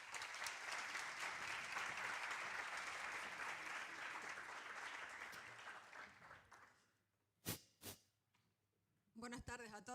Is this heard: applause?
yes